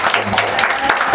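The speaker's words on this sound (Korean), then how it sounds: "우리 박수 한번 쳐주시기 바랍니다." Church prayer-meeting audience clapping briefly in a hall, a short burst of steady applause heard alone.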